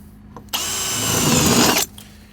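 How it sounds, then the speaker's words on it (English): A cordless drill with a step bit whines up and grinds steadily through vehicle metal for about a second and a half, loud and close, then stops abruptly. "we come in here with the cordless drill with a unibit in it"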